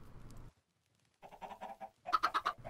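Chickens cluck in a video game, a faint burst at the start, then a gap of near silence, then a run of short rhythmic clucks growing louder toward the end.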